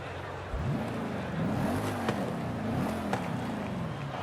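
A V8 car engine in Forza Horizon 5 revs up and down through several rising and falling sweeps, a steady, fairly close rumble with no talking.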